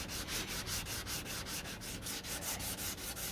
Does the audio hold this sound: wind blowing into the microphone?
no